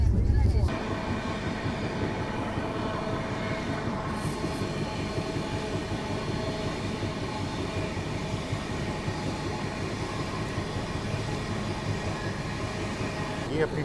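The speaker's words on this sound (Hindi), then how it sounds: "ये अपनी ट्रेन पहुंच रही है काजीपेट ई केबिन" Danapur Secunderabad express train arriving at Kazipet, a steady, loud rumble of rolling coaches with tonal hum throughout and faint voices in the background.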